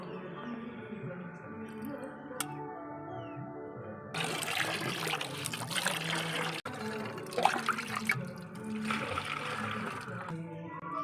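Liquid pours and trickles into water, a steady watery gush that grows louder midway, with no voices.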